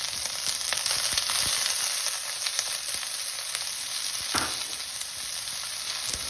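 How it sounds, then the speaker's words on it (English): Bean sprouts for vegetable egg foo yung sizzle in a hot non-stick frying pan, a loud continuous frying hiss with scattered crackles and pops, close and unbroken, without talk. "So, nice and sizzly in the middle. Add my bean sprouts."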